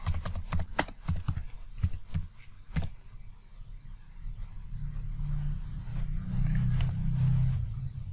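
Typing on a computer keyboard while entering router configuration: quick clusters of sharp key clicks up close, thinning out and giving way to a low hum toward the end.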